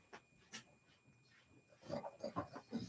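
A dog pants quickly and softly, with a few faint whimpers mixed in, close but quiet in an indoor room.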